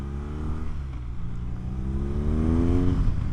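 A 2023 BMW R nineT 100 Years Edition boxer-twin motorcycle accelerates at full throttle, its loud close engine note climbing steadily in pitch over a rushing wind.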